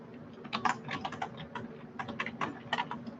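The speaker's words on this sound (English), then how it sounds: "I'll type that in." Quiet, close typing on a computer keyboard, with uneven clusters of soft key clicks and brief pauses between bursts, no voices.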